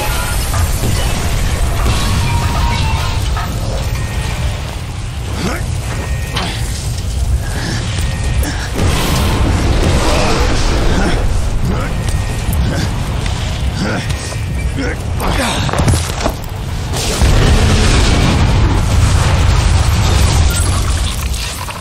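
Loud, dense rumbling blasts and crashing booms from gravity core generators exploding in the video game Bulletstorm roll continuously, with layered explosive bursts and debris clatter filling the whole stretch.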